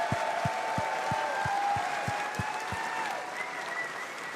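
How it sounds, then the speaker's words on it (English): Audience applause at TennoCon, the Warframe convention: a sustained wash of clapping from a large crowd, steady and fairly loud, with low rhythmic thumps from music running beneath it. "So big round of applause to the whole sound team at DE."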